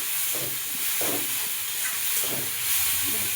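Onion and tomato with salt sauté in a pan, a loud, steady hissing sizzle broken by a few soft stirring scrapes.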